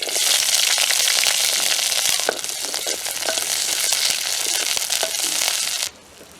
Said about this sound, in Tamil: பொரிஞ்சிட்டு தானே அதே எண்ணெயிலேயே அந்த உள்ளி சின்ன வெங்காயம் கொஞ்சம் அதையும் போட்டு எடுக்கிறோம்.